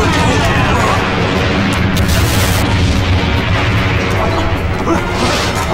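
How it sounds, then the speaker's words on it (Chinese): A bomb explodes in a wartime kung fu action film, a loud, sustained roar of blast and crashing debris filling the whole stretch without pause, with shouting voices partly buried beneath it. "炸弹要爆炸，快跑！"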